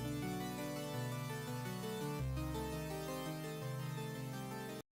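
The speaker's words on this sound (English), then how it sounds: "It's a super saw with some phase randomness," A super saw synth patch with phase randomness and no wide stereo panning plays a sustained chord progression, dense and steady with a chord change midway, then cuts off abruptly near the end.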